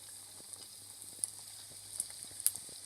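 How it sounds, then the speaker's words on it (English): Mini potato-stuffed samosas frying in piping hot oil over a low flame, a soft steady sizzle with scattered small pops and crackles, quiet and close. "So now we're going to fry our mini samosas."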